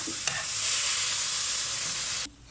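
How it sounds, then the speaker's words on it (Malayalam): Squid head and tail pieces being stirred in a hot frying pan: a loud, close, dense sizzle with a sharp utensil knock at the start, cutting off abruptly near the end with no speech. "കൂന്തൻ്റെ തലയും വാലൊക്കെയാണ് ഇടുന്നത് ഫസ്റ്റ് അത് മിക്സ് ചെയ്ത് കൊടുക്കാം"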